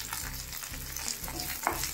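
Green chili, ginger and curry leaves fry in hot oil with a close, crackling sizzle, punctuated by rhythmic stirring scrapes and a sharp pop near the end.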